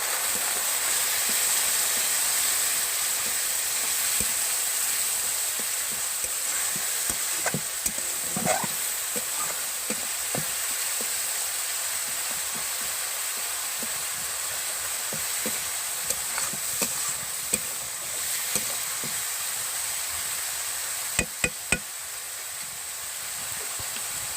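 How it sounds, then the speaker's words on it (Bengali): Spice paste for a village-style snakehead (shol) fish curry fries in a pan with a little water, giving a steady hiss and sizzle throughout, broken by scattered scrapes and knocks of stirring. "আমি সামান্য পরিমাণে জল দিয়ে মশলাটাকে কষাবো।"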